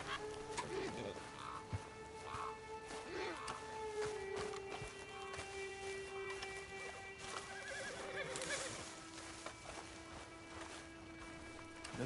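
A horse whinnies several times over a busy background of Red Dead game audio, with other animal and bird calls mixed in.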